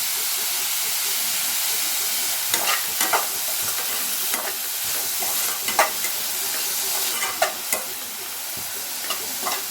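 Egg podimas sautéing in a pan, a loud continuous sizzle and hiss with repeated scraping stirs of a spatula every second or so, close up and without talk.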